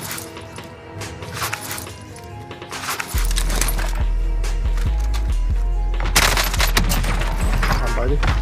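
Gunfire in the Warzone video game comes as rapid automatic bursts and scattered single shots, getting louder and denser partway through, with clinking and crashing mixed in over constant battle noise.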